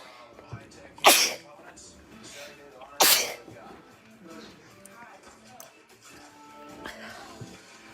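A person with a cat allergy sneezes twice, two sharp loud bursts about two seconds apart, with quieter background sounds and faint voices in between.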